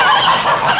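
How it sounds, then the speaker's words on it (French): Geese in a farmyard honking loudly and close, a short burst of nasal honks. "en regardant les oies qui étaient en train de manger dans un coin de la cour"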